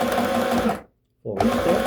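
Short bursts of a sewing machine back stitching a seam on a cotton skirt, loud and close, split by a brief pause.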